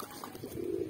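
A soft low coo from pet flying pigeons, including a red Patiala and a black bird, rises near the end of a brief moment, preceded by faint rustling and no speech.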